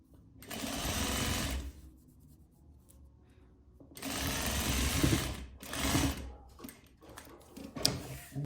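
A sewing machine stitching corset cording runs in three loud close bursts of rapid mechanical whirring and clatter, separated by quieter pauses and small handling clicks, with no speech.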